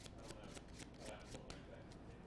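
A deck of playing cards is shuffled during a magic session, with soft rapid riffling bursts, faint and close, and a voice nearby.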